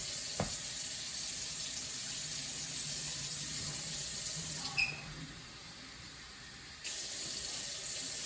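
Water runs from a tap into an Instant Pot for cooking pulled pork, a steady faint hiss of pouring that dips briefly midway and then resumes, with a small clunk near the start and no talk.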